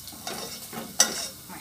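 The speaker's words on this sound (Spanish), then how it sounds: "Ahí voy a dejar que se sofría un poquito la cebolla." Chopped onion frying in oil in a pan for enchilada salsa, giving a soft steady sizzle with a sharper stir or scrape near the middle.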